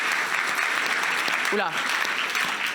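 Audience applause fills an awards nomination night, a dense, steady wash of clapping from a large crowd, with a brief voice exclaiming over it partway through.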